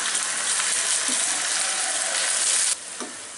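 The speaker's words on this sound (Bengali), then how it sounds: "দিয়ে মিনিট খানেক ভুনে নিব।" Onions with ginger and garlic paste fry in a pan under a loud, continuous sizzle that drops abruptly near the end, followed by a brief stir.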